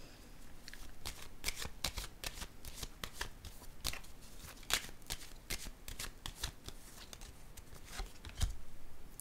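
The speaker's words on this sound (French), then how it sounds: "Je vais déposer une autre carte ici." Tarot cards handled and shuffled on a table make a quiet, close run of soft flicks and riffling slaps, with a faint thud toward the end.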